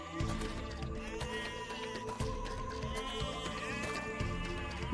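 Sheep bleat repeatedly over a busy cartoon music bed in an animated telling of The Boy Who Cried Wolf, wavering cries rising and falling across the scene at a steady, moderate level.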